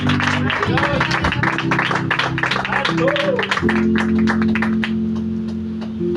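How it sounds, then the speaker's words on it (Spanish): A church congregation gives a round of applause, a dense patter of clapping that runs under talk and loud held voices, then thins out toward the end. "Bríndale el aplauso."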